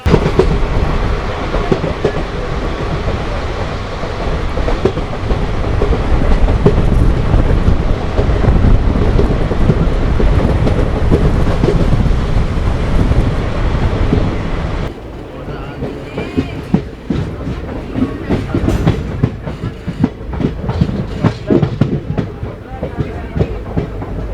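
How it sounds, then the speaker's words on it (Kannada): The Vishwamanava Express running on the Hubli–Bengaluru line, a loud steady rumble and rhythmic clatter of wheels on rails, shifting to a thinner, clicking texture partway through as the carriage sound changes. "train number one seven three two five ಇವಾಗ ತಲುಪಿದೆ ಜಾಜೂರ್ ಜಂಕ್ಷನ್ಗೆ"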